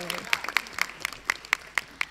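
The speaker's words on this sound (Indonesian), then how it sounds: "Boleh tepuk tangan dulu dong." A small number of people clap in a school setting after student performers are praised, giving a sparse, fairly regular run of distinct claps at moderate loudness.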